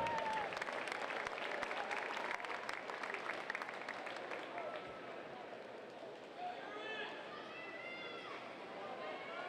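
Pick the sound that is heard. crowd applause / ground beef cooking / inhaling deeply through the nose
crowd applause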